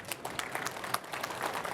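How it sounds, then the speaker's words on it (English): A brief burst of audience applause greets a demo presenter at the TDX 25 tech conference, a moderately faint patter of many clapping hands. "Can we give Jackie a round of applause?"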